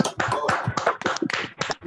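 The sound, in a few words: online audience clapping for three speakers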